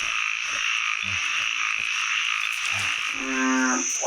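Narrow-mouthed frogs call in a forest at night, giving repeated short croaks followed by a rapid, pulsing trill, over a dense, steady chorus of insects.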